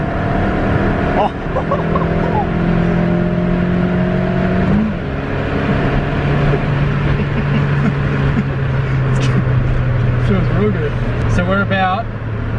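A nitrous-fed Toyota Starlet accelerates in third gear on 98 fuel, heard from inside as a steady engine drone with rising tone, under constant loud talk from people in the car.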